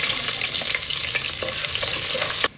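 Spices and onion frying in hot oil as the base for a meat curry, a loud continuous sizzle with repeated spoon scrapes stirring the pan, cutting off abruptly at the end.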